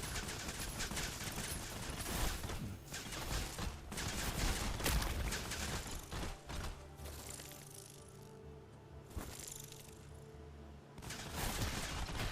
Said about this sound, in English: Some of the imps are going to be detonating right on top of that